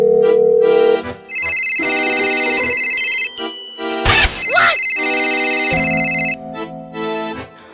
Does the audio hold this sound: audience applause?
no